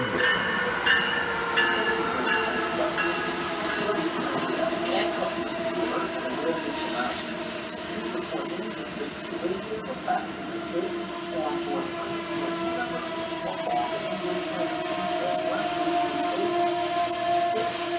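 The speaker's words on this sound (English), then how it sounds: "arriving on track 1 is the Amtrak 810 eastbound train number 192 to New York" An eastbound Amtrak passenger train to New York rolls into Iselin station on track 1 with a steady mechanical roar, clattering wheels and high metallic squeals, while a voice talks faintly in the background.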